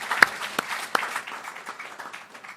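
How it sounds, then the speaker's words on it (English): Applause from the audience at an African electricity markets panel: a few loud, distinct claps ring out, followed by a softer spread of clapping that trails off. "Yes, a round of applause."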